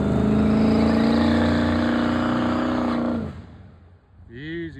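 A car engine with a possible carburetor problem revs hard and loud for about three seconds, the harmonic roar cutting off abruptly, followed by a brief voice.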